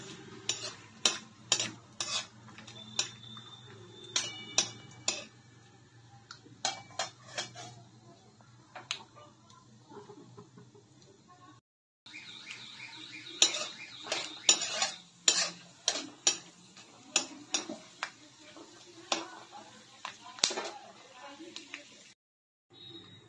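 Peanuts fried in a little oil in a wok, heard mostly as repeated clattering scrapes and taps of a metal spatula. A soft sizzle sits under the clatter, with a brief pause midway.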